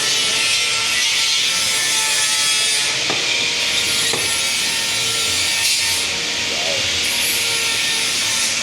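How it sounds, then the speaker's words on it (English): A robot welds suspension parts inside a German factory in Fichtenberg, producing a loud, continuous broadband hiss with a few faint knocks underneath and no break in the noise. "So it's welding with a robot."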